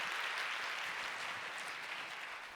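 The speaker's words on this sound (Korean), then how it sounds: "다 뜨겁게 축복의 박수 해주실까요?" Church congregation applauding newly baptised members at a youth worship service, a dense, even wash of clapping from a sizable crowd, steady and moderately distant throughout.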